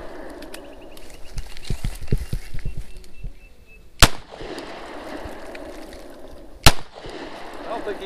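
A BB gun fires at a large snake beside a fishing bank: two sharp, loud cracks a few seconds apart, surrounded by scattered softer clicks and thumps.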